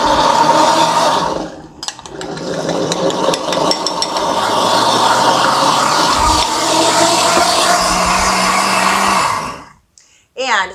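A soup-making blender whirls cream of leek soup with a loud motor whine and churning rattle, starting after a brief pause, running steadily for several seconds before stopping with a few clicks.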